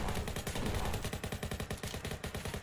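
Gunfire in the Roblox Jailbreak video game during a robbery: a rapid, steady stream of close automatic shots repeating throughout, loud and continuous with no talking over it.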